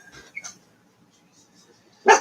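A chihuahua puppy gives a faint yip or two, then one sharp, loud bark close by at the end, with no talking over it.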